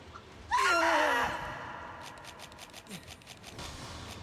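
A player character in Monster Hunter Rise lets out a loud, strained scream that slides downward and cuts off after under a second, followed by quieter game sounds and a faint rapid ticking.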